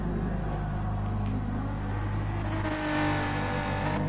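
Touring race cars in a racing video game circle the Autopolis circuit, their engines droning steadily and rising into louder revs toward the end, with no voices.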